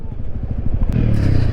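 A motorcycle runs close by with a low, pulsing engine idle that steadies into a denser rumble, a brief clatter midway, with voices speaking over it.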